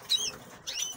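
Farm birds give two short, high chirps, faint and about half a second apart, over quiet background noise.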